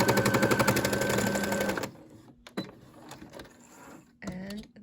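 A Brother SE600 sewing machine stitches fabric coasters with a loud, rapid mechanical whir that stops after a couple of seconds, followed by quieter handling and clicking noises.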